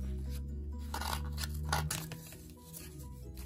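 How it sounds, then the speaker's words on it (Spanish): Scissors snip through a cardboard toilet paper roll in a few close, crisp cuts and crunches, with no talking. "voy a tomar las tijeras y voy a recortar hasta ahí"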